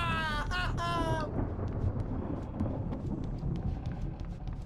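A thunderstorm in the video game Alan Wake Remastered, with low rumbling thunder and steady rain under scattered drip-like taps, following a brief strained vocal cry at the start.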